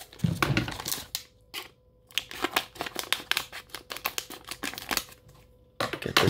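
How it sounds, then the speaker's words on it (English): Quick, crisp scissor snips and crinkling plastic sound up close as an NFL trading card pack is cut open, clustered in a busy run of cuts with brief pauses. "I need a pair of scissors here."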